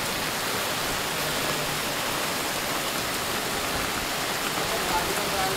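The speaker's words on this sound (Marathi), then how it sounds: "पाऊस बघा गाईस, पाऊस नुसता जोरात पाऊस" Heavy monsoon rain pours down in a dense, unbroken roar, loud and steady throughout with no letup.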